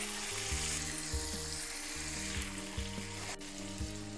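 Meat goes into a fried spice paste in a pan for a capsicum chicken curry and sizzles steadily at close range. A low background hum runs under the sizzle, and a short scrape comes near the end.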